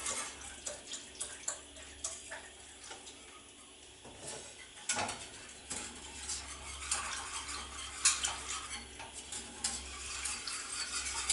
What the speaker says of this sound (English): then you just whisk that in until it gets to the consistency that you want